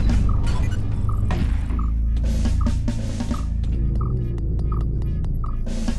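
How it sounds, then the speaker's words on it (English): Motion tracker in the sci-fi horror game Space Beast Terror Fright beeps in a steady repeating rhythm of short tones, louder toward the end, over a constant low droning hum of game ambience. "That noise is the motion tracker."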